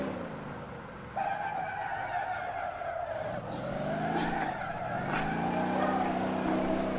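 A car drifting in the game Motor Town, engine droning steadily while tires squeal and skid through a long slide, the sound swelling louder partway through and holding, with no voices.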